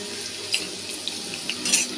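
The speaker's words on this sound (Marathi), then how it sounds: "तेल चांगलं गरम झालं की त्याच्यामध्ये पहिली मी लसूण टाकते" Garlic sizzling as it goes into hot oil for a tempering, a continuous close hiss broken by a few sharper spits and crackles, with no voices.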